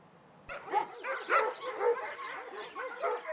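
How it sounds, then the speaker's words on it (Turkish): About 180 dogs bark and yelp together in a continuous, overlapping chorus, fairly close and loud, with no pauses between barks. "toplu şekilde havlayan köpeklerin verdiği rahatsızlık"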